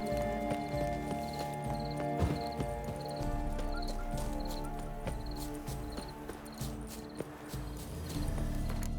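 Horse hooves clip-clop steadily in the video game The Witcher 3, a continuous walking rhythm under game music and ambient layers, with no talk over it.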